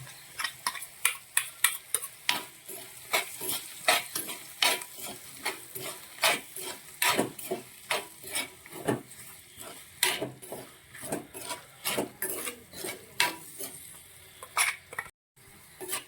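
Roasted ground coconut paste with black pepper and fennel being stirred into a frying pan for a green chilli curry, with a steady run of close utensil scrapes and clacks over a soft sizzle, no talking.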